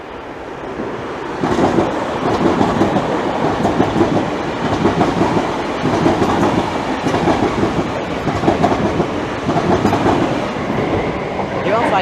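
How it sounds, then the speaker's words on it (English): A Greater Anglia Class 321 and two TfL Class 315 electric multiple units pass through Bethnal Green station in London, a loud, sustained rumble with rhythmic clickety-clack of wheels over rail joints and some wind buffeting. "Now approaching, ready to pass by, is a Greater Anglia 321 and two TfL 315s"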